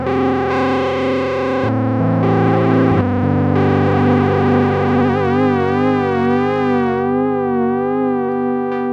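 Prophet 5 analog synthesizer holding rich, buzzy chords while its LFO combined with poly mod sweeps the tone in a rapid, warbling, siren-like modulation that grows more pronounced, steady and loud without speech.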